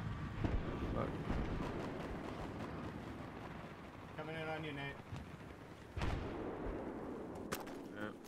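Rifle gunfire in the shooter game Battlefield 3: sharp shots punctuate a dense rumbling battle backdrop, the loudest near the start and at the six-second mark, with a player talking over the action.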